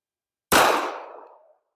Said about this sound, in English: What we ended up here with is a total out of battery explosion.